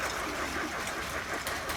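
Eight toy train engines running together on a single track, giving a continuous close rattling, clattering hum with no clear breaks.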